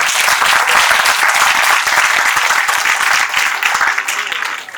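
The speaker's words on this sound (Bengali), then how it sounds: "জোরে হাততালি ওদের জন্য।" Audience at a Sri Aurobindo Kendra annual stage program applauding a dance team, loud dense clapping from a full crowd that fades slightly at the end.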